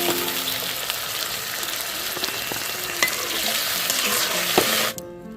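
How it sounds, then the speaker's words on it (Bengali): A pan of fried spice paste for an egg and dal curry hisses and sizzles loudly and evenly as water is added. The sizzle cuts off abruptly near the end. "এবার জল দিয়ে দিব"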